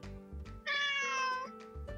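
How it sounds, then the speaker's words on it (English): A recorded cat gives one clear, drawn-out meow in the middle, close and distinct, with low musical tones around it. "It's a meow meow sound. Do you know what animal that makes that sound? Oh yes, it's a cat."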